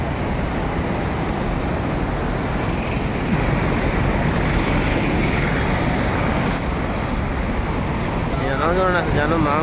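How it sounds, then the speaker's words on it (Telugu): The Krishna river rushes at the Prakasam Barrage as a steady, loud broadband roar of churning water, with wind and faint traffic mixed in and a brief voice near the end. "కృష్ణా నది అయితే ఉరకలు పెడుతుందండి, మామూలుగా లేదు అసలు"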